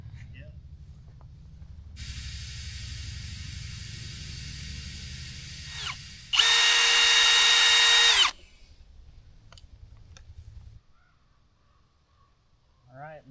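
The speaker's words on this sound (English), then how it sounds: "We're gonna drill now" A power drill boring holes for cabin foundation piers in Alaska, a steady whining motor that runs for several seconds, then a louder, higher burst near the middle before stopping, over a low rumble of background machinery.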